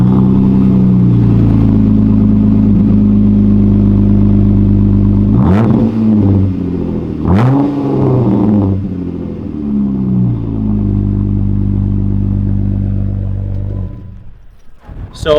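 A 2015 Jeep Wrangler JK with a Pipes high-clearance exhaust idles steadily and loud, blipped twice in sharp revs midway before settling back and cutting off near the end.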